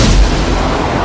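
Fighter jets firing missiles at the alien ship in Independence Day, a loud, heavy one-second blast of booming rumble with no pause.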